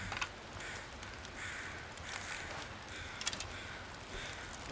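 Crows cawing in The Long Dark's wilderness, a series of faint, distant harsh calls repeating at irregular intervals over a steady windy background hiss.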